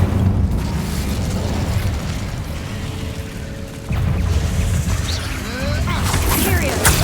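The Incendio fire spell is cast in the video game Hogwarts Legacy, giving a loud, dense whooshing roar of flame over a low rumble that swells again partway through, with faint game effects alongside.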